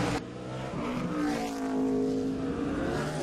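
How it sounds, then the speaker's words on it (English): An Xfinity Series race car at Mid-Ohio roaring through the gears as it accelerates, the engine note climbing and shifting in pitch, loud and close over a steady track rumble with no speech. "Allgaier through the gearbox, on the gas, off the gas, on the brakes"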